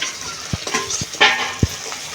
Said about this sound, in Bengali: একটু এইভাবে কুচি করে ডিমটা ভেজে নেব।